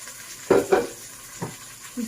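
A spoon stirs fresh tomato frying in a pan for a pork dish, giving a few short scraping, sizzling strokes close by with quiet gaps between them.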